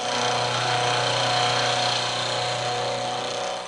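A milling machine cutter runs steadily, a continuous mechanical whir with a constant hum, close and fairly loud, with no speech.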